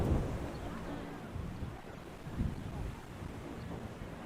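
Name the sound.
wind blowing at a baseball field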